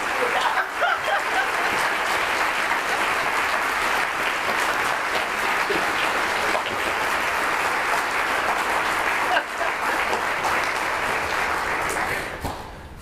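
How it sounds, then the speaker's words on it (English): Sustained audience applause fills a retirement reception honoring a long-serving school district figure, a steady dense wash of many hands clapping at close range for about twelve seconds before tapering at the end. "I ask everyone to join me in a round of applause for Dr. Barbara Easton-Watkins."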